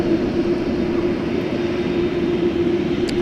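A plane at Dallas-Fort Worth airport, a loud steady engine roar with a strong low hum, continuous and unbroken, heard without voices.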